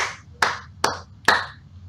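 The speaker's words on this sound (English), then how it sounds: "I award you a Dumbledore clap." Four sharp, evenly spaced hand claps ring out close and clear about every 0.4 seconds, awarded slowly after a poem reading at an online poetry showcase, with nothing else sounding between them.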